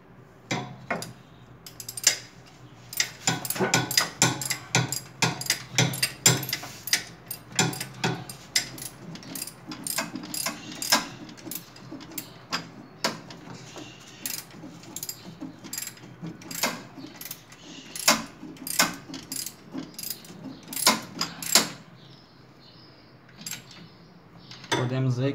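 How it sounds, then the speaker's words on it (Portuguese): Ratchet clicks and metallic ticks while two bolts are tightened on a VW AP engine, in irregular bursts of close clicking spread over the stretch, with occasional tool clinks. "Vamos estar encostando os dois parafusos e depois vim apertando eles"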